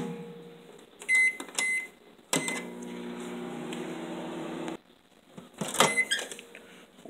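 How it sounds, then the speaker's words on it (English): A microwave oven hums steadily for about two and a half seconds with a chicken strip inside, its door clicks and beeps sounding before and after the run, close and clear with no talking. "And now we put it in the microwave again."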